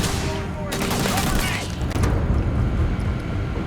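Gunfire in the sci-fi shooter Starfield, a dense burst of rapid shots and booms packed close together and loud, running under excited talk throughout.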